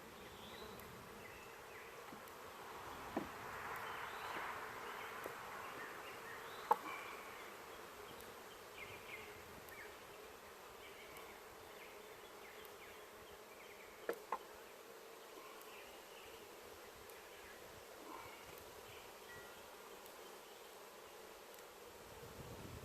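Honeybees from a newly bought package, held in an open hive during an inspection, give off a steady, faint buzz that lasts throughout, with a few soft knocks and clicks on top.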